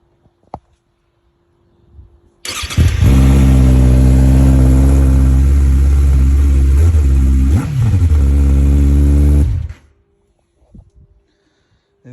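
A Kawasaki ZX6R motorcycle with an aftermarket Akrapovic exhaust fires up with a loud, deep rumble and idles roughly for several seconds, with a blip of revving, before cutting off abruptly.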